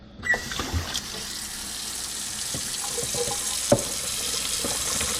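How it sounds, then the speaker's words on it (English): Grease poured off cooked hamburger meat into a sink, a steady running-liquid hiss with a few soft clunks of pan against metal, fairly close and uninterrupted. "Draining the grease off a hamburger."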